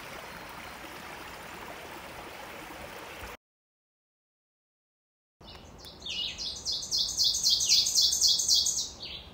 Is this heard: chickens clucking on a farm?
no